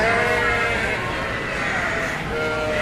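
Yearling ewes under two years old bleat loudly and continuously in a sheep show ring, several voices overlapping with a dense layered chorus close by.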